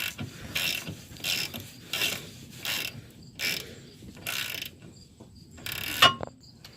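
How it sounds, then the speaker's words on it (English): A hand ratchet works loose the bottom caliper guide pin on the rear brakes of a 2010 Dodge Avenger. Short bursts of rapid clicking come in a steady rhythm, close by, with brief pauses between strokes. "Just remove the bottom guide pin out of the caliper."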